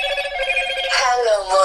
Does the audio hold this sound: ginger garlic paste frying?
no